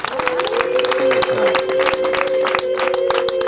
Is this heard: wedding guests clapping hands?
yes